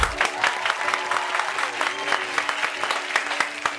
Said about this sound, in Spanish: Un aplauso para que recibamos en esta fotografía a Mino Valdés.